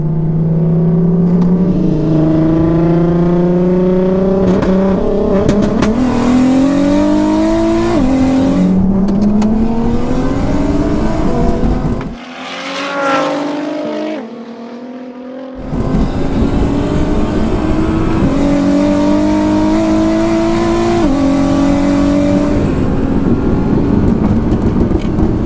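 A 1014 hp twin-turbo Audi R8 and a 770 hp VR6 turbo Audi A3 drag race on the street, loud engines revving hard through rising gear pulls, a brief lull as one passes, then more roaring acceleration.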